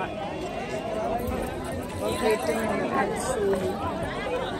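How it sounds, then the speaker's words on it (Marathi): Dense crowd at the Maha Kumbh gathering in Prayagraj, a continuous babble of many overlapping voices with shuffling footsteps and bustle, close and steady throughout. "खूप गर्दी आहे आज पण."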